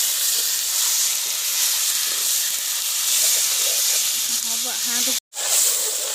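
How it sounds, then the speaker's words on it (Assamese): Marinated duck meat fries in plenty of oil, giving a loud, continuous close-up sizzle and hiss with a faint voice-like murmur just before a short break near the end. "মাংস ভাজি থকা হৈছে, দেখিছেনে কিমান তেল ওলাইছে"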